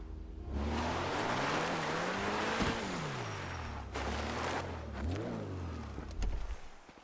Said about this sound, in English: I hear a Testarossa coming up the road.